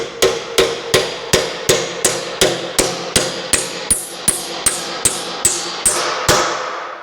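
A hammer strikes Tri-Five front suspension parts in a steady run of about seventeen sharp, ringing metal blows, close and loud, with no talk.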